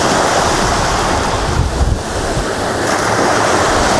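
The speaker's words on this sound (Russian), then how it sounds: "Как шумит красиво море." Sea of Azov surf on a warm October day near the village of Golubitskaya, a steady broadband wash of breaking waves with wind buffeting the microphone, continuous and fairly loud with no voices.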